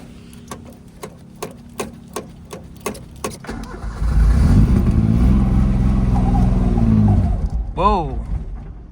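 A Suzuki Mighty Boy car in freezing, snowy weather: about ten rhythmic cranking pulses from the starter, then the engine catches and runs loudly for several seconds before faltering, with a brief voice near the end.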